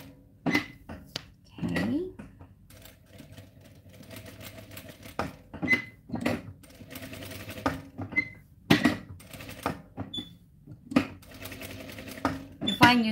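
A sewing machine stitches a baby bib in short, uneven bursts of whirring and clicking, with someone talking throughout between and over the stitching.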